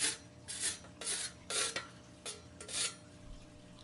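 A water filter part's edge is sanded by hand, producing about six short, rhythmic scraping rasps in quick succession, close but fairly quiet.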